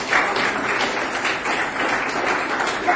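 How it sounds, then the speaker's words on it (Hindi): Audience applause at a tree talk event on cuisine development, a steady wash of clapping from a crowd filling the whole stretch at moderate loudness with no pauses. "एक ताली एक बार फिर हमारे सामने"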